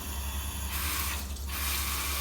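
Tap water runs into a sink during handwashing, a steady hissing stream that softens briefly before flowing strongly again, close and continuous with no talk.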